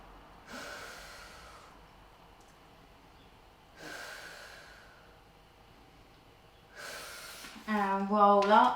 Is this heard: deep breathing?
yes